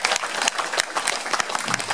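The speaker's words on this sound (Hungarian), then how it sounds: "Megérdemelnek egy nagy tapsot." An outdoor audience at a regatta event claps in a dense burst of applause, moderately loud and continuous for about two seconds, with no voices standing out.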